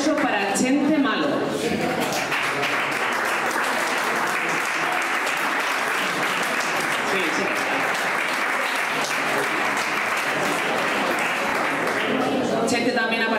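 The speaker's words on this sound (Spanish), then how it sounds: "Un fuerte aplauso para Chente Malo." Enthusiastic crowd applause at a village fiesta in Marcilla, a dense continuous roar of clapping held for over ten seconds, with a few voices and laughter mixed in at the start and end.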